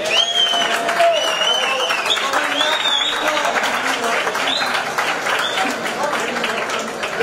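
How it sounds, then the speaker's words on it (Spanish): An audience applauds at a city anniversary celebration in Spain, with a dense, steady wash of clapping and crowd noise that holds throughout and fades slightly near the end, while voices carry underneath. "querido compañero y estimable de Puno, Mimo, al que quiero que le den un fuerte aplauso."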